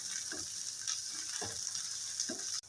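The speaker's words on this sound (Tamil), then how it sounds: "கேரட்டு, பீன்ஸு எல்லாத்தையும் போட்டு வதக்குவோம்" Carrots and beans sauté in a hot pan for rava kichadi with a steady broadband sizzle, broken every half second or so by soft scraping strokes of a spoon stirring the vegetables.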